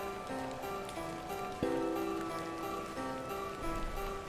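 Rain in the video game The Excavation of Hob's Barrow, a steady soft patter spread across the whole clip beneath melodic game music.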